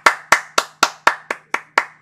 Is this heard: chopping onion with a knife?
no